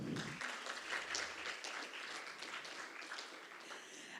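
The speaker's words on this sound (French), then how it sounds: "je vais vous demander de les applaudir très fort" Audience applause at a student place-marketing competition event in Morocco: a dense, steady clapping from a crowd that carries on for several seconds at moderate distance, without speech.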